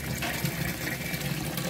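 Water circulates steadily through the filter system of a home crayfish tank, a continuous gushing, trickling flow that stays even and fairly quiet throughout.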